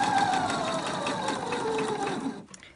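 A sewing machine stitches a fabric face mask, its motor whirring in a steady continuous run at close range before stopping abruptly near the end.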